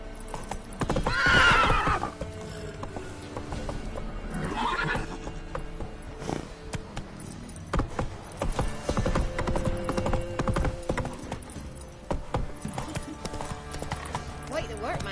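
Hooves clip-clop at a gallop beneath a horse's whinny in The Witcher 3, with a game soundtrack and voices running underneath the whole time.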